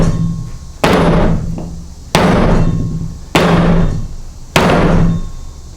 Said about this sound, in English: 5 times with a hammer.